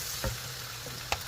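Spices and vegetables frying in a pan for an eggplant, potato and baila fish curry, heard as a soft, steady sizzle with a couple of brief stirring knocks.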